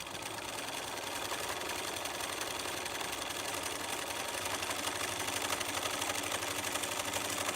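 A sewing machine stitches fabric along a seam line, a fast continuous mechanical chatter that runs steadily close up and fairly loud, with no voices over it.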